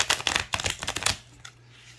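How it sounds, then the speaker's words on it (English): A deck of tarot cards riffle-shuffled, a quick burst of close, crisp fluttering clicks that ends abruptly and leaves a low hum, with no voices. "I think I'll be able to get a pretty good shuffle on it. I've never shuffled on camera"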